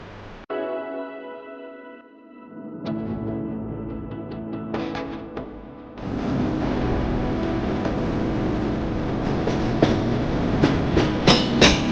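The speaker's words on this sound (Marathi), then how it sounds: "त्यात गाडी बोगद्यातनं बाहेर जाते परत आतमध्ये येते" A Pune to Mumbai passenger train running through ghat tunnels, a loud rumbling roar with rattling wheels and rhythmic clickety-clack that grows steadier and heavier as it goes.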